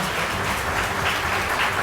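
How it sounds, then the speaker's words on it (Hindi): A dense wash of applause from a crowd at a government program launch in Jharkhand, India, steady and loud throughout the short stretch. "जोरदार तालियां"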